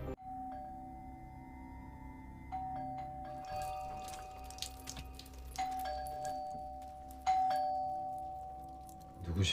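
A doorbell chimes several times at a house door in a Squid Game scene, clear tonal dings repeating at intervals over a low background hum, with occasional faint clatter.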